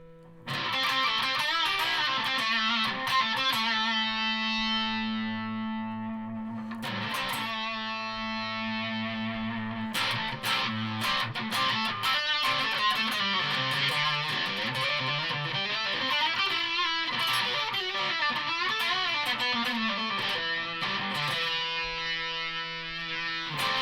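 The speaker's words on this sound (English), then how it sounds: "There's definitely some sort of echoey thing going on." A Yamaha Magicstomp guitar effects unit runs a distorted patch with echo, producing continuous sustained electric guitar chords and notes that ring out with repeating tails, played loud and steady with no talking.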